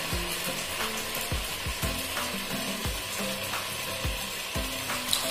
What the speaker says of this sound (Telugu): ఈ వడలు సిమ్లో పెట్టుకొని వేసుకోవాలండి.